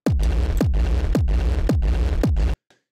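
Dry hard techno kick drum sample from an FL Studio sample pack: five heavy, punchy kicks in a steady rhythm with booming low tails, loud and close, then a sudden stop into near silence.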